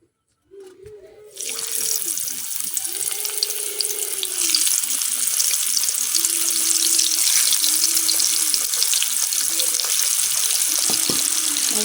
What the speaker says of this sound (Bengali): তেলটা কিন্তু গরম হয়ে গেছে এখন আমি এক এক করে আলুর ফুলগুলো দিয়ে নেব